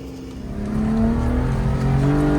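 A car engine during a driving lesson hums steadily and rises slightly in pitch as the car pulls away, close and continuous, no talking.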